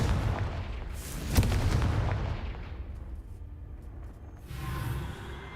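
A Confringo fire spell from the Hogwarts Legacy video game bursts with a sharp booming crack near the start, then a rumbling, whooshing tail that fades, with a softer swell returning near the end.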